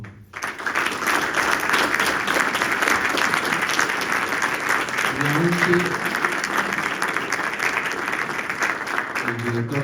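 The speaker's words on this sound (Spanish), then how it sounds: "Despedimos a nuestro expositor con un fuerte aplauso." A crowd at a military staff college lecture gives a speaker strong, sustained applause, loud and dense from the first second to the end, with a voice briefly speaking over it.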